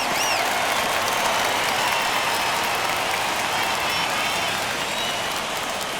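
Stadium crowd cheering in the MLB The Show 21 baseball video game during a White Sox versus Tigers game, a dense continuous roar of cheers and applause that holds steady and loud throughout.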